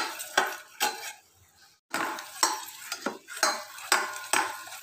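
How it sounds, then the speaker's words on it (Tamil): A spoon stirs and scrapes through sugar syrup cooking into caramel in a pan, giving a rhythmic series of close, clinking metallic strokes with a short pause midway. "நல்லா கிண்டி விட்டுட்டே இருக்கும் brown color வரட்டும்"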